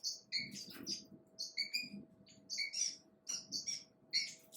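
Several birds chirp and tweet in short repeated bursts of bright calls in a backyard aviary at the start of fall breeding season, fairly faint but clear against a quiet background with a faint steady hum.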